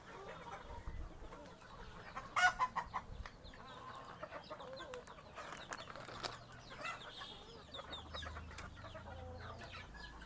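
Tiger breed hens clucking in a coop, including some with swollen faces from a cold: a steady chorus of soft clucks and murmurs with a louder burst of calls near the start, no voices.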